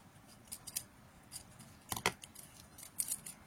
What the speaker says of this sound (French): on va couper la quetouille